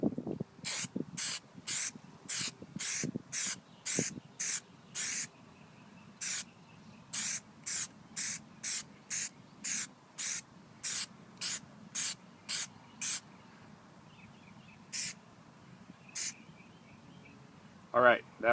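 An aerosol can sprays Plasti Dip onto a Nissan Titan emblem in a series of short, sharp hissing bursts, some quick and some drawn out, fairly close, with a quiet background and a brief sound at the end.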